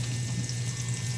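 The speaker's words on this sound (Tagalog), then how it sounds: "Lutuin natin ang bawang para masarap." Garlic frying in a pan gives off a steady, even sizzle with a constant low hum beneath it, close and unbroken, with no one talking.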